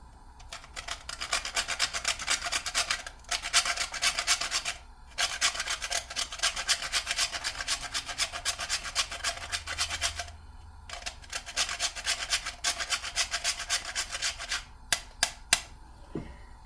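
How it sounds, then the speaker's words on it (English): Nutmeg rubbed against a grater for porridge of green plantain, green banana and peanut: steady rapid rasping strokes in long runs broken by brief pauses, close and clear. "And I'm going to grate some nutmeg."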